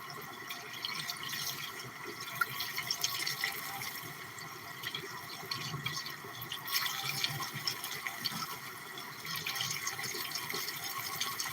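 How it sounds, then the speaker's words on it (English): Tap water running steadily while flushing out a fish tank, a soft continuous splashing and trickling with faint drips, fairly quiet and uninterrupted. "I've been using the tap water to pretty much flush it out"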